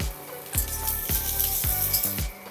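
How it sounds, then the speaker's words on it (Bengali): Dried whole red chillies dropped into a hot pan crackle and sizzle, with a few sharp bursts recurring roughly every half second over a continuous frying hiss, close and fairly quiet. "প্রথমে লঙ্কাগুলো দিয়ে দিচ্ছি,"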